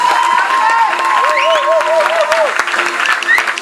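An audience at a folk storytelling and music evening applauds loudly and steadily at close range, with some cheering, while voices and a sung or called line carry over the clapping.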